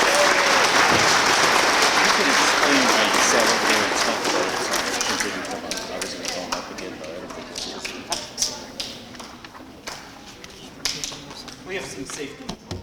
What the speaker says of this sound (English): Let's have a nice round of applause for these hardworking scholars